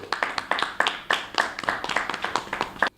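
An audience claps in a steady, fairly close burst of hand claps lasting a few seconds at a public gathering.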